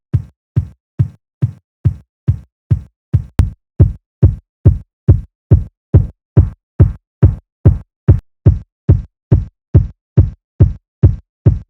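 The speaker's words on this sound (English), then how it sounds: "I will loop this section right here so that we can listen continuously to the kick" A deep, punchy sampled kick drum repeats in a steady, even loop, around two hits per second, loud and dry with nothing else playing.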